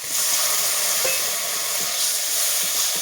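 Hot oil sizzles and spatters steadily in a pan of mixed vegetables with tomato and turmeric, a close, continuous hiss with a few faint pops and no talking.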